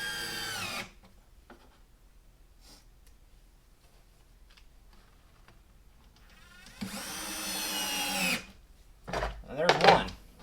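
A power drill drives 5/8-inch coarse pan head screws into MDF, whirring for about a second and a half near the microphone, with a further short burst later, between stretches of someone talking.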